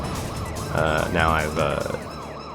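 Police car sirens wail in a retro PS2 budget driving game, a loud rising and falling electronic tone over engine noise, with someone talking briefly over it.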